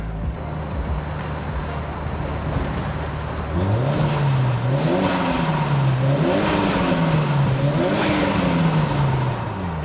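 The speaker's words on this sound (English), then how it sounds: "the turbo sounds even better" A 1983 Lotus Esprit Turbo engine holds a steady low hum, then revs up and down several times in quick, wavering pulls, loud and close.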